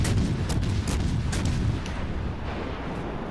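Destroyer guns firing in World of Warships Legends, a naval battle game, a rapid series of sharp cracking shots over a heavy rumbling background roar, loud and close, without speech.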